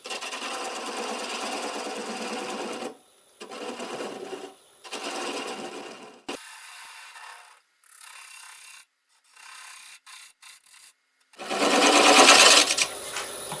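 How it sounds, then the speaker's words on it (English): A wood lathe spinning an English walnut bowl at about 560 RPM while a half-inch bowl gouge cuts away the tenon, making repeated rough scraping bursts broken by short pauses, with a louder final pass. "I'm going to take a 1/2 inch bowl gouge and we'll remove that tenon"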